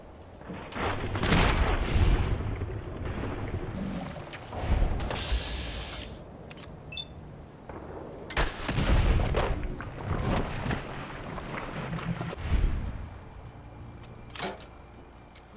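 Gauss rifle fire in Fallout 4 comes as several loud, heavy blasts spaced a few seconds apart, each with a booming crack and a mechanical whine, against a busy battle background.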